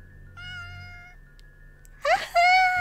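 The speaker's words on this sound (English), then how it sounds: "I love finding cats in games" A cat in a circus-themed video game meows twice: a steady mewing tone first, then a louder, sharper meow near the end, set over a quiet low hum with no talking.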